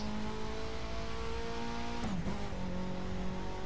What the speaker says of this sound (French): le bruit est sympathique au passage de vitesse